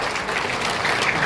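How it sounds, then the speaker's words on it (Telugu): Auditorium audience clapping at an International Day of Persons with Disabilities function in Sangareddy, a steady dense wash of applause filling the whole brief moment with no voices. "ఈరోజు చప్పట్లు గట్టి కొట్టాలి"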